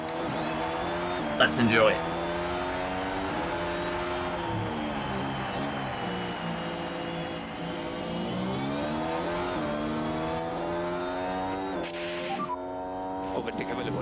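F1 Manager 2023 race cars on the opening lap, heard from a helmet cam: a steady, loud engine drone with shifting pitch from gear changes runs throughout, and a voice speaks briefly early on.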